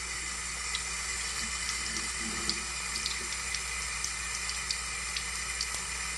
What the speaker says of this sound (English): go ahead and turn on some water. Make sure it's not too hot or too cold, and you really don't want it to have much pressure there